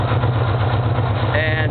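Engine idling with a steady low rumble throughout, its exhaust gas temperature running high from a leaned-out air-fuel mixture; the drone continues evenly at close range with a faint tone appearing near the end.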